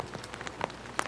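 Rain falls outdoors on surfaces outside a house where reporters gather, a dense, steady patter of drops with a few sharper, louder taps, close and continuous with no voices.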